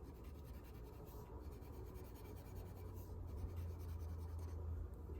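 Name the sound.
pencil lightly coloring on paper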